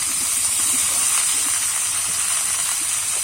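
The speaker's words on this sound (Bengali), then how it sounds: "আমি কিছুক্ষণ ধরে কিন্তু ভেজে নিয়েছি, দেখো এরকমই ভাজবো" Grass carp pieces frying in oil in a pan while being stirred, a loud, steady sizzling hiss that goes on unbroken, with faint scraping underneath.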